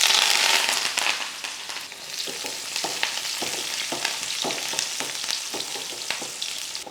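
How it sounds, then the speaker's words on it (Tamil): Shallots and curry leaves crackle and sizzle in hot oil for a South Indian breakfast tempering, a dense steady frying hiss punctuated by sharp pops and stirring scrapes, close and alone. "மறக்காமல் சின்ன வெங்காயம் போட்டு தாளிங்க."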